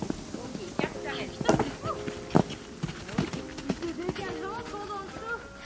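A pony's hooves clip-clop and thud as it approaches and clears a line of jumps. The irregular footfalls sound fairly close and moderately loud, mixed with faint snorting and other bright sounds, and people talk nearby.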